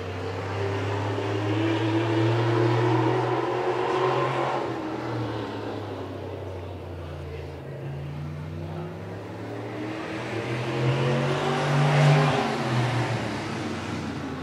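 Modified race cars roar around Tomah-Sparta Speedway, engines swelling loudly as the pack passes, fading, then building again to a second close pass.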